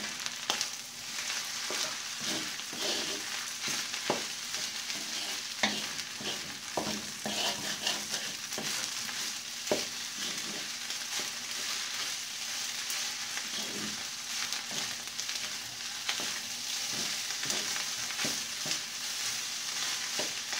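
Fried rice with freshly added spring onion is stir-fried in a pan, giving a steady sizzle and a loud, continuous hiss over repeated scraping and clanking of a spatula against the pan, with no voices.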